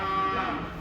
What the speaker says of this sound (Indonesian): Sapi hitam raksasa.